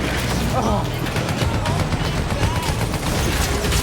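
Gunfire in the video game Battlefield 1 crackles as dense, continuous bursts of shots and impacts, loud and close throughout, with a busy battle din filling the background.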